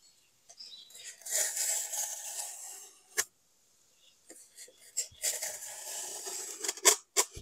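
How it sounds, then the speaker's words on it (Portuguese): A utility knife slices through a styrofoam sheet in several close, squeaky, scratchy strokes separated by short pauses, with a few sharp clicks. "Encosta o estilete, afunda um pouquinho e puxa"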